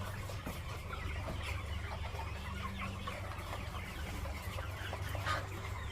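Egg-laying hens in a poultry house cluck and chatter steadily, many birds overlapping at once in a continuous, moderately loud flock din with a low background hum.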